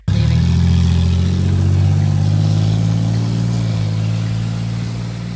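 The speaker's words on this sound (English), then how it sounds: "It's a nice V8 engine in here. It roars like crazy." A car's V8 engine, straight-piped with no exhaust fitted, roars at a loud, throaty idle with a deep pulsing rumble that starts abruptly and holds steady before easing slightly near the end.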